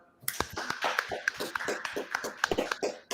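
A class of people claps in an uneven scatter of sharp, separate hand claps, a few at a time rather than a dense ovation, heard at moderate volume.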